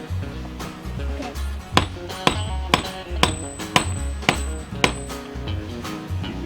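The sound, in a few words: hammer striking a bolt on mobile sheep shed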